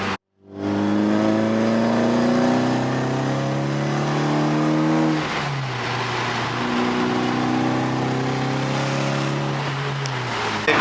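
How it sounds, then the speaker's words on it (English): Nissan S15 Silvia with an aftermarket exhaust revving hard, its deep low-toned engine note climbing steadily, dropping briefly as it shifts, then pulling up again, loud and close from inside the car. "Exhaust setup is just very nice. I love that low tone."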